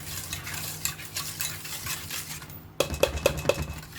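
Three cups of coconut milk stirred into a coconut jelly and sago dessert. Soft swishing strokes at first, then a run of four or five crisp, ringing clinks of a utensil against the bowl, close and clear with no talk.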